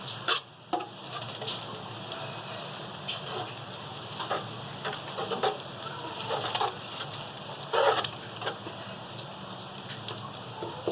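Sweet vermicelli (sevaiyan) with methi being stirred in a pot makes irregular scraping and clicking knocks over a steady background hiss, continuing for several seconds with no one talking.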